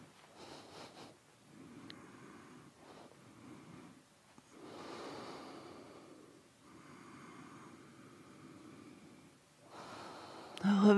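Slow, deep breaths during a yoga fish pose come as soft, close inhales and exhales in a steady rhythm, quiet overall, with a louder breath at the end.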